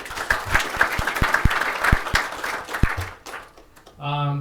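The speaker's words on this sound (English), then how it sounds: "We need claps to encourage us to continue on towards drinks." Audience applause at a panel discussion on mine electrification, a dense burst of clapping with sharp individual claps standing out, tapering off near the end as a voice takes over.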